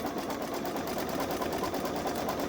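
A Babylock Solaris sewing machine runs steadily through a dense satin stitch, a fast, even mechanical whir with a fine rapid needle rhythm, close and continuous.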